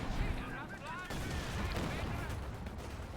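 Smoke rounds fired in the strategy game Company of Heroes, with muffled booming artillery-like shots and rumbling battle noise at low volume over continuous background combat.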